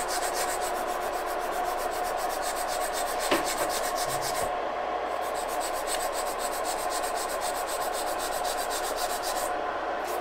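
A 100-grit file rasps back and forth against the side walls of an acrylic nail in quick, steady close-up strokes, with a scratchy rubbing sound that carries on for about ten seconds.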